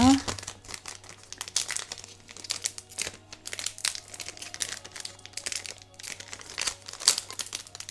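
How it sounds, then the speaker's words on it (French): One Piece card game OP10 booster packs are opened, with close, continuous foil crinkling and tearing that comes in bursts while a person talks over the rustling. "comme ça j'ouvrirai tous les boosters en même temps"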